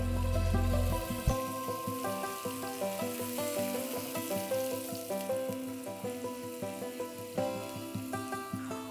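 Red onions and green chillies frying in hot oil with cumin seeds, a steady close sizzle running the whole time under tonal background music.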